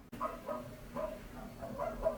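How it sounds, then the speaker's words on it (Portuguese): Several soft, muffled dog barks and yips, a little distant, spaced irregularly across a couple of seconds. "os cachorros também adoram latir na hora que eu ligo a câmera"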